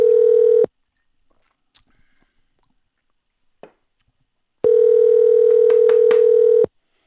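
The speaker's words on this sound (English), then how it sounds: "I'm calling Justin about 10 minutes early" A steady telephone ringback tone on an outgoing phone call sounds loud and close in two long bursts separated by a few seconds of near silence with faint clicks.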